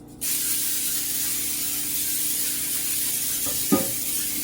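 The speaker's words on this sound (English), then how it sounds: "let's spray our pan" Cooking spray hisses steadily onto a baking pan for a chocolate box cake, one continuous close spray followed by a brief clatter of the pan.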